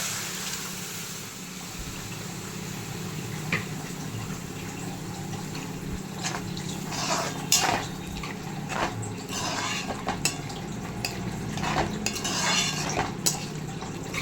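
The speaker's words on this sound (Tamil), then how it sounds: "இப்போ நம்ம வேக வச்சுருக்கிற அந்த நொர டப்பாவை இதில் மிக்ஸ் பண்ணிடணும்." Boiled goat lung stirred into hot frying oil in a pan: a continuous run of scraping and clinking utensil strokes against metal over a low sizzle, with sharper knocks now and then.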